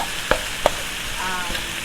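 Ground pork frying in a pan with a constant sizzle, broken by a few sharp scrapes and taps as a utensil stirs the meat, close and with no talking.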